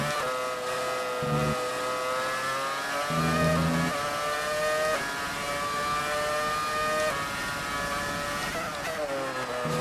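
A Brawn V10 Formula 1 car engine in the F1 2018 racing game screams at high revs, its steady tonal whine rising and dipping with gear changes, loud and continuous with no talk.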